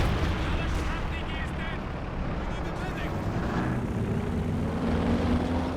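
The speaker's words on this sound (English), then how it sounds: "Tank strafe brought in, but it's so easy to dodge that. It comes in so slowly." A tank strafe aircraft attack in Company of Heroes 2 brings a loud, continuous roar of engine drone and gunfire bursts that hold steady at a dense level, with someone talking over it.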